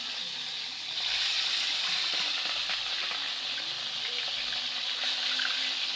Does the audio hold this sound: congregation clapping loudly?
no